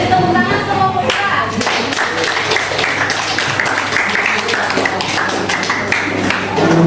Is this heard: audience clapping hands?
yes